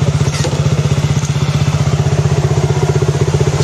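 A motorcycle engine idles in neutral, close and loud, with a steady rapid throbbing pulse throughout and no talk.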